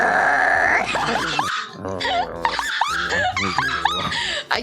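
A person imitating a growl with their voice, producing raspy, strained vocal rumbles and yelps in irregular bursts, close and loud, mixed with other voices.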